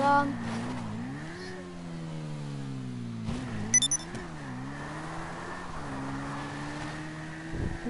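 A motorcycle engine in GTA 5 drones steadily with rising and falling revs, close and fairly loud, and a brief clatter cuts in partway through.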